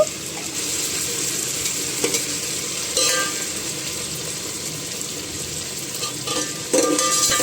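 Chopped tomatoes frying with ginger garlic paste, heard as a steady close sizzle under repeated scraping and stirring in the pan, with louder stirring bursts now and then and no speech.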